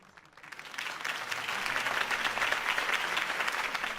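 Crowd applause after a campaign speech by Harvey Dent in Batman: The Telltale Series, rising quickly from quiet into sustained dense clapping for several seconds, somewhat distant and moderate in level, with no voices.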